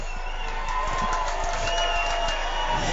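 Crowd cheering at a college football game between Fort Lewis College and Oklahoma Baptist, a sustained distant roar under a constant low hum, with occasional thumps and rising swells.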